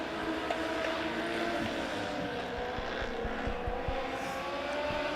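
Legends race cars run through turns 3 and 4 at Springfield Raceway, producing a continuous layered engine roar at moderate distance, with pitch shifts as the cars pass and some low thumps.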